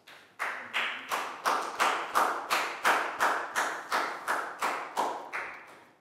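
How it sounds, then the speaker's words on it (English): Regular, evenly spaced claps, about a dozen in a row, sounding in a Year 4 classroom as a round of applause, close and alone with no talking. "So round of applause for Net, guys."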